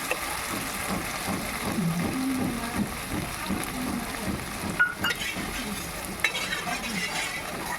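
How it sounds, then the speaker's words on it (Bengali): Paneer coated in nigella seeds fries in mustard oil on a flat griddle pan, a low steady sizzle under repeated stirring, with a couple of sharp clinks of the spatula against the pan. "তার মধ্যে কালো জিরে ফোড়ন দিয়ে মাখা পনিরটাকে আমি ঢেলে দিয়েছি। দিয়ে একটু নাড়াচাড়া করে নেব।"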